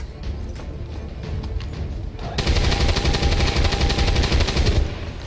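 Rapid automatic gunfire from XCOM 2 bursts in after a short lead-in of scattered shots, a loud sustained rattle for a few seconds before it cuts off.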